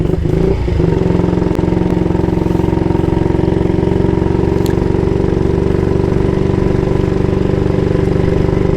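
A 1938 AJS Model 22 250cc single-cylinder British motorcycle thumps along at a steady road speed, its low, regular engine beat loud and close throughout, with no talk.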